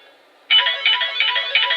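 A phone ringtone starts abruptly after a moment of quiet and keeps ringing in a bright, warbling electronic pattern, close and fairly loud.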